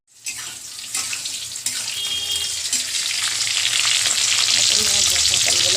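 Sliced pointed gourd sizzling in hot oil in a home kitchen, a loud continuous hiss that builds and thickens over several seconds, with faint clinks and water-like crackle mixed in.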